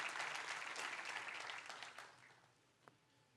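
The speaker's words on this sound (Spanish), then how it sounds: "Dele un fuerte aplauso a Dios por eso." A church congregation applauds during a sermon, a broad rush of clapping that holds steady, then fades away over the last second to quiet, with one faint stray clap near the end.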